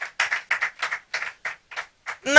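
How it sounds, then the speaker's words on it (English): A congregation at a business-themed church service claps in bursts of rhythmic, separate hand claps, fairly close and moderately loud, with no talk over them. "Please clap for yourself, please."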